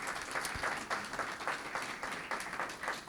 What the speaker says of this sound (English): A round of applause for this exchange so far.